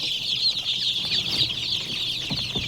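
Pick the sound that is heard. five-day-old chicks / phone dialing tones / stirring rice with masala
five-day-old chicks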